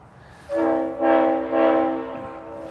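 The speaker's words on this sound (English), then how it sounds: "they'll pull that train all the way up to the top" A Norfolk Southern train horn blasts nearby at a crossing in three loud, overlapping pulses, sustained chord tones swelling and fading with rail noise underneath.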